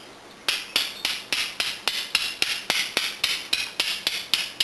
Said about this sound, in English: you can see it's throwing spark right off the get-go